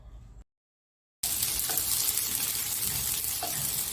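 Slices of finger millet idli fry in a pan, giving a dense, steady sizzle after a brief moment of silence, close and unbroken to the end.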